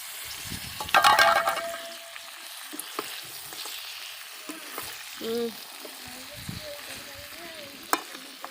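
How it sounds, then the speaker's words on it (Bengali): Meat curry sizzling and frying in a pan after potatoes are added, with a clatter of stirring near the start and soft bubbling sizzle throughout, no talk. "এবার ওর মধ্যে আলু দিয়ে দিচ্ছি কষাই হয়ে গেছে মাংস"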